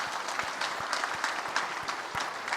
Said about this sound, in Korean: 끝까지 함께한 우리 학생들에게 축복하는 박수 한번 하겠습니다